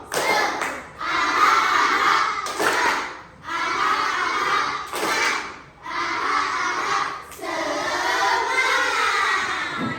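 Fifth-grade primary school children chant a rhythmic spirited-clap cheer in unison, their voiced syllables coming in short bursts separated by brief pauses, with hand claps and thumps mixed into the group chanting.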